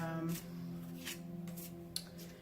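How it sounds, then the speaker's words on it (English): Tarot cards are shuffled by hand, with soft riffling bursts recurring every half second or so, faint and close under a steady low hum. "I'm just going to start by shuffling."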